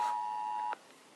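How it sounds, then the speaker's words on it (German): A mobile phone sounds a single steady electronic alert tone for under a second, then cuts off abruptly, heard outdoors at a wind farm with Siemens SG 6.6-155 turbines. "Oh ne, jetzt macht mein Handy auch Krach."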